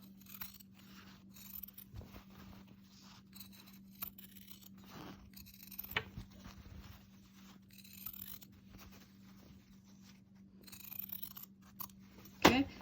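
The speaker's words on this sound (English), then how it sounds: "This helps if you have nice sharp scissors too." Quiet, intermittent snips and crisp scraping of scissors cutting through fabric, close by, over a faint steady hum.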